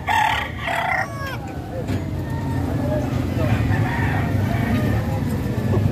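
Roosters crow repeatedly at a chicken market in Padre Garcia, Batangas, loud nearby calls rising over a busy crowd with people talking and vehicle rumble in the background.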